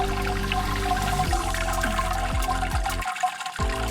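Beer wort drains and gurgles steadily through a mash filter, a continuous watery rush with a few low drops and a brief pause near the end.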